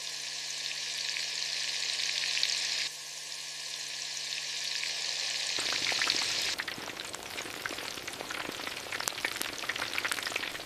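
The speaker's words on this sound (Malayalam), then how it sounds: "ഈ ചിക്കൻ നല്ല തിളച്ച എണ്ണയിൽ മുക്കി പൊരിച്ചെടുക്കുക." Flour-coated chicken for crispy broasted chicken deep-fries in boiling sunflower oil, first as a smooth, steady hiss, then as a louder, crackling, spattering sizzle with sharp pops, close up and without speech.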